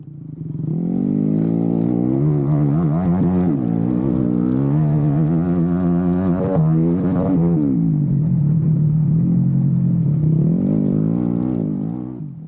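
Flat track motorcycle racing flat out on a wooded dirt track in South Carolina. The engine roars loud and close and holds wide open throughout, with its pitch rising and dipping through the gear shifts.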